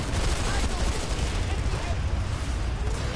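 Tank explosion during a Planetside 2 battle, a loud continuous roar of blasts and gunfire filling the whole stretch with dense, unbroken combat noise.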